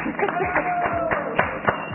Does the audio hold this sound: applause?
yes